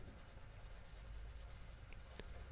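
A colourless burnisher pencil with a hard core rubs back and forth on paper, giving a soft, steady, close scratching whisper with a couple of faint clicks.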